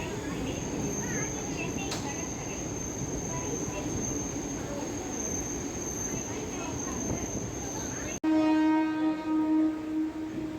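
A Chennai MRTS suburban train rumbles along loudly and steadily for most of the stretch, then a sharp cut gives way to a sustained tonal train horn blast near the end.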